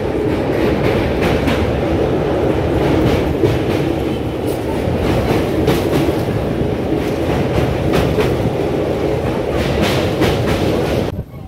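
Kolkata to Digha special train 03161 running, a continuous loud rumble of wheels on rails with steady clickety-clack, heard from inside the coach, no talk.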